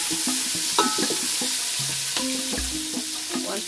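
Onions fry with salt in a pot over a constant bright sizzle, with clinks and scrapes of a spoon stirring against the metal at irregular moments and no one speaking.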